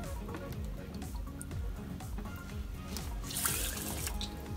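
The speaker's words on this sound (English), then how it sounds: "So she's adding the water," Purified water pours into the pot of an Aroma 6-cup rice cooker, a faint, continuous trickling and dripping with low bubbling gurgles throughout.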